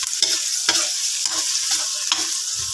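Browned pork with onion and garlic sautéing in a pan, a bright continuous sizzle broken by several scraping stirs and taps of a utensil, close, with no talk.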